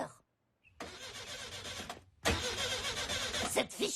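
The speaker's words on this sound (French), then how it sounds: "Cette fichue voiture ne démarre pas." A cartoon car engine in The Simpsons cranks and fails to start, heard as two loud, rough grinding bursts separated by a short pause, close and harsh.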